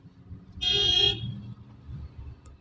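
A single sustained car horn honk from a Tata Nexon automatic, loud and close, lasting about half a second amid low rumbling engine and traffic noise.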